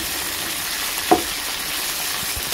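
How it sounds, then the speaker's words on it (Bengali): Tilapia pieces fry in a wok of hot oil with a steady, close sizzle, broken by a single soft knock or tap near the middle. "আজকে একদম লাল লাল করে ভেজে ভুনা করবো পেঁচে মরিচ দিয়ে।"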